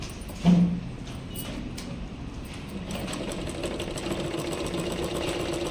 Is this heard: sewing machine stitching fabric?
yes